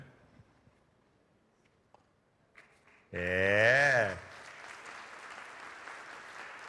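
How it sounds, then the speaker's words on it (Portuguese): At a dinner debate event, after quiet moments with a couple of soft knocks, a short tonal swell gives way to steady, broad clapping from an audience that continues to the end. "Uma salva de palmas para Guilherme Benchimol."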